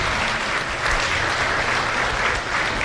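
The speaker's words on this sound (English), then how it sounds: "a round of applause" Audience applause for youth fair steer show exhibitors, a dense, even round of clapping from a crowd that holds steady without talk.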